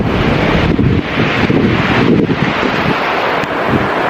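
Strong wind gusts buffet the microphone at a ruined castle in Aberystwyth, Wales, a loud, continuous roar with no let-up and no voices.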